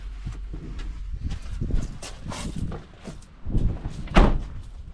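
Clunks and rattles of a Nissan 300ZX Twin Turbo 2+2 door being unlocked from inside, a latch click and handle movement, ending in a solid thud as it opens.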